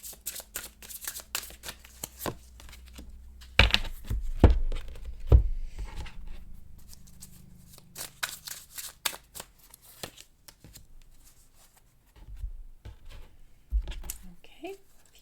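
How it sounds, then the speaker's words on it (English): Tarot cards are shuffled by hand in bursts of quick riffling and slapping, with several thumps as the deck is tapped or set down. The sounds are close and crisp, and quieter stretches fall in between. "So I like to shuffle."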